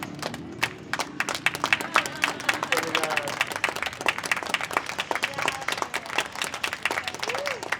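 Audience applause rises for a street busker in São Paulo, many hands clapping in a dense, steady patter with scattered sharper claps and a few voices over it.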